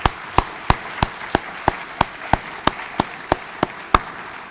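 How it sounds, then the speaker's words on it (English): At a 2022 DCSD Bridge graduation ceremony, crisp claps land in a strict, regular rhythm about three times a second, loud and close, with little else around them. "Kids, let's have a round of applause for all the parents and family members out there"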